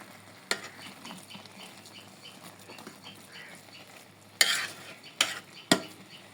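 Beef biryani being stirred in a pot, with quiet rustling and a few sharp scraping clinks of a spoon against the metal pot, the loudest clustered near the end.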